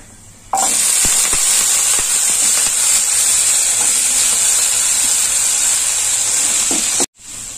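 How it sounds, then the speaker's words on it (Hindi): Chopped apples hit a hot pan for apple chutney and set off a loud, constant sizzle that begins abruptly and holds steady for several seconds with a few scraping stir sounds, then cuts off briefly near the end. "अब मैं इसमें अपना सेब डालूंगी।"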